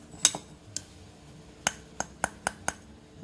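Broken pieces of aquarium glass, smashed with a hammer, clink together in sharp isolated taps, about seven bright chinks spaced irregularly over a quiet background.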